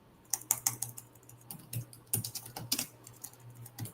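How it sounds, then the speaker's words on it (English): Quiet keystrokes tap on a computer keyboard in short irregular bursts, close but soft over a faint low hum, with no talking. "are you doing ASMR typing? No, am I typing loud?"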